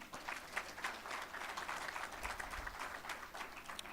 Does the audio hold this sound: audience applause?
yes